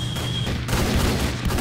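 Rapid pistol gunfire in the Roblox game Zeppelin Wars, a dense burst of overlapping shots crackling and booming continuously for a moment with no voices.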